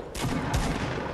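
Two quick gunshot bursts in the battle royale game Fortnite, loud and close, a sharp crack followed by a second blast about half a second later with a brief rumbling tail.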